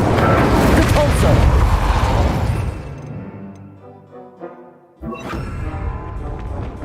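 Repulso spell cast in the Hogwarts Legacy video game: a loud, dense burst of magical force that rumbles and fades over about three seconds, followed by a sharper impact and a sustained crackling roar afterward.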